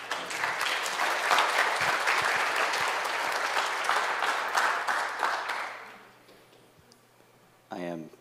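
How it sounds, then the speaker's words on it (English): Strong applause from a church congregation at a baptism Sunday service rises and holds for about six seconds, then fades out, and a voice speaks briefly near the end. "Let's give them a round of applause."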